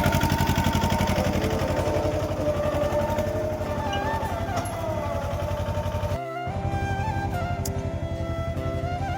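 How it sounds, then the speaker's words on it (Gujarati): A Mahindra Jivo mini tractor engine runs steadily in a farm field, a close, loud, even chugging drone with a fast regular pulse that holds throughout, briefly dipping once. "મહિન્દ્રાનું જીવો ટ્રેક્ટર છે, નાનું મિની ટ્રેક્ટર એ ચાલી રહ્યું છે"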